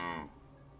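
A person imitates a cow with a drawn-out, low mooing voice that starts strong and fades within a second, close and alone, during a game development live stream.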